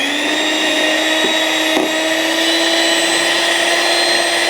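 An electric hand mixer beating eggless honey cake batter, a loud steady motor whine with a constant pitch and a couple of brief knocks, running alone without talk.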